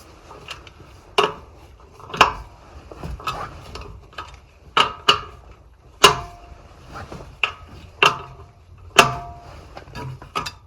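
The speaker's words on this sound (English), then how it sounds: "Crack your lug nuts. These are aftermarket, so they're 19 millimeter." Aftermarket 19 mm lug nuts being loosened on a 1988-1992 Toyota Corolla: a run of sharp, close metallic clanks and ratchet clicks at irregular intervals, loud against a quiet garage background.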